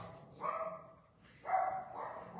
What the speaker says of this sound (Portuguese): Minhas cachorrinhas aqui hoje estão agitadas, viu?